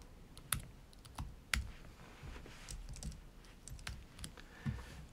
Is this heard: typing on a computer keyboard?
yes